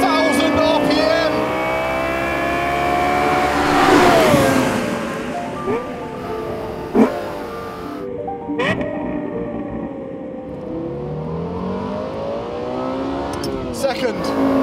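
A Lexus LFA's engine revs hard while accelerating, rising in pitch through several sharp climbs with brief drops between shifts, loud and close, with a voice speaking over parts of it.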